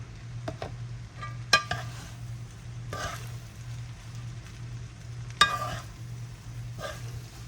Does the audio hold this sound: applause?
no